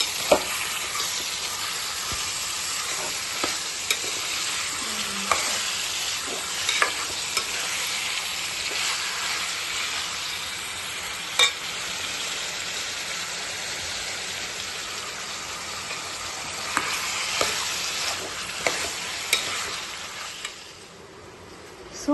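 A kilogram of chicken fries in a pan with a dense, loud, rain-like sizzle and repeated scraping, clacking stirs, fading sharply near the end.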